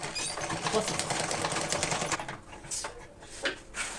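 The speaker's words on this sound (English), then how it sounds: "I'm making sure I'm sewing on the straight line" Sewing machine stitching along a straight line on a foldable lunch box bag, a steady close mechanical whir in the first half, thinning into sparse short bursts, with a voice talking over it.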